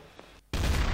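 Gunfire in the multiplayer game Trouble in Terrorist Town erupts suddenly after a brief quiet gap, a loud, dense burst of shots that holds steady to the end.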